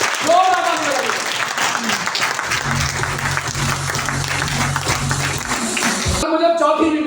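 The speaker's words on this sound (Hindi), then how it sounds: "जोरदार ताली बजा दीजिए एक बार" An audience at a business leadership seminar breaks into sustained, dense applause that fills the room, with a voice speaking briefly over the clapping near the start and end.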